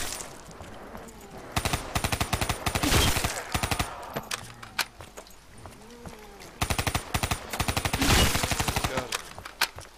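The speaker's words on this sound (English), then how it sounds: "I'm wasting bullets like crazy." Rapid automatic gunfire in Black Ops 3 Zombies, two long sustained bursts of fast repeated shots with shorter scattered fire and game noise in between.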